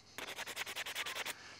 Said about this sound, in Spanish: Pues ahora ya le estamos dando lija y para pasar a pulirla bien.